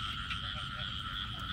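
A steady chorus of frogs croaks through the night in the Mekong Delta countryside, dense and continuous, with no voices over it.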